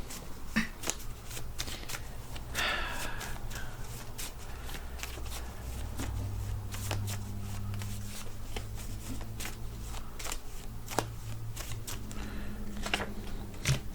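Playing cards shuffled by hand during a tarot-style reading, with repeated crisp riffles and flicks scattered through steady low background hum; no talking.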